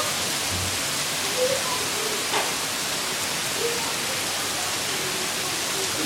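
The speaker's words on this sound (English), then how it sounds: "it doesn't rain this bad in Nebraska" Heavy rain pours down in Show Low, making a dense, constant hiss of falling water close by, with a few faint sounds and brief muffled voices beneath it.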